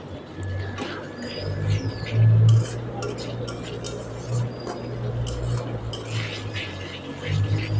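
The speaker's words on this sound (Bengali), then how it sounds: "একটুখানি গরম জল অ্যাড করে তারপর হাফ টিস্পুন জিরে গুঁড়ো অ্যাড করে কষিয়ে নেব।" Ground cumin and spices with a little hot water being stirred in a pan over low heat, soft scraping and intermittent clinks and ticks of a spoon against metal over a faint background hum.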